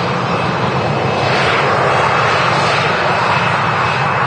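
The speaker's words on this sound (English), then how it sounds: "Lovely colour on this KLM 737-800 series." A KLM Boeing 737-800 at Manchester Airport roars with a steady, loud, broad jet engine rumble that holds evenly throughout, with a faint whine running underneath.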